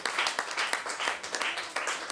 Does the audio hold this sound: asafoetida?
no